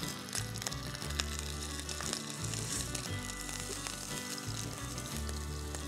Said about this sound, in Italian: La rosoliamo bene su tutti i lati